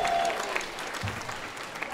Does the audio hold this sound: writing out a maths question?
no